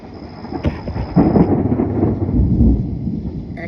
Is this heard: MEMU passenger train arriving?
no